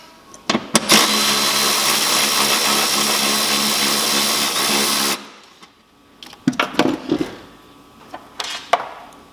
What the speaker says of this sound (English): We're going to undo the bolt here holding this earth strap.